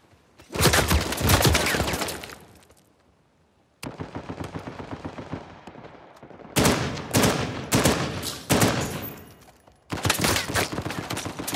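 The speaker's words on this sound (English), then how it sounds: "Should probably just follow the gunfire." Heavy gunfire from an Uncharted 4 multiplayer match comes in loud, sustained automatic bursts separated by brief gaps, one of them near-silent, with rapid rattling shots dominating throughout.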